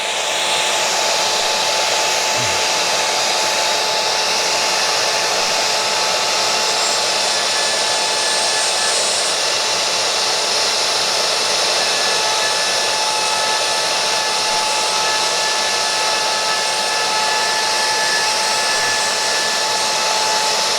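A Shaper Origin router cutting a pass in wood gives a loud, steady high-pitched whine without a break, a constant motorized roar with a faint tonal hum.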